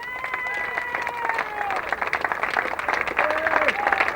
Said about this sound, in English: Big round of applause there for Matt.